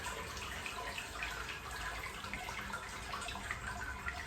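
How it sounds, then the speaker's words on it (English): Water trickles and runs steadily through a grain bed into a brewing kettle, a soft continuous liquid wash, fairly quiet, with no talking. "So you can hear that water now going through the grain bed"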